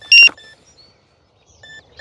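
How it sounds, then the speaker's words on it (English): The ESC of an Eachine F18 50mm EDF RC jet gives a warning: a loud, short, high electronic beep, then a couple of fainter tones after a pause. "See, the ESC is also screaming at me. Beeping."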